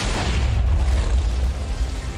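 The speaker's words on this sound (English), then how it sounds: "The TNT explosion killed everyone" A TNT explosion in the Minecraft video game, a loud, dense rumbling blast that fills the whole clip with no voices over it.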